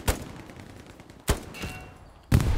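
Bursts of gunfire from the World War II shooter Hell Let Loose, three sharp, loud cracks spaced roughly a second apart, with a rolling tail of distant shots between them and no talking.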